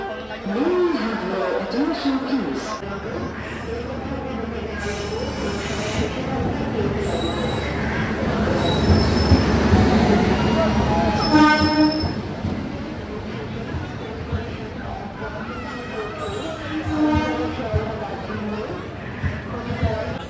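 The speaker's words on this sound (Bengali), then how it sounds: "চলে আসলো আমাদের ট্রেন।" A passenger train rolls in beside railway platform three, a rising rumble with squealing wheels peaking midway and easing off, under busy platform chatter and nearby talking.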